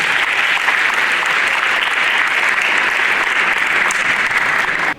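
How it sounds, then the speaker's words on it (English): Dense, loud audience applause at a Hobart candidates event, a continuous even roar of clapping for a village candidate that holds steady throughout before cutting off at the end. "Let's have everybody give a warm round of applause for this fantastic village candidate."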